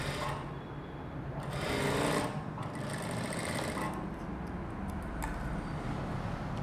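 A sewing machine stitches a plain blouse, running steadily and fairly close for several seconds with small surges in speed and no talking.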